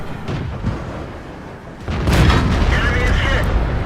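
A tank cannon fires in a World War II tank video game with a Cromwell, T-34 and Hellcat, a loud heavy boom over a rumbling engine, with someone talking just before it.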